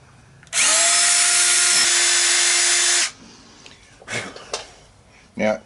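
A power drill with a small-diameter bit whines loudly at high speed into a hardened broken stud for about two and a half seconds, then stops; a few scraping clicks and a faint voice follow.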